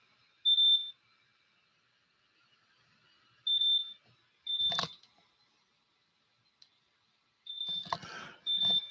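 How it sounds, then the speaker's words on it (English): A wristwatch beeps in short, high electronic chirps: a single tone near 0.5 s and another near 3.5 s, then paired bursts toward the end. A thump and some rustling fall between them in an otherwise quiet room. "My watch is beeping."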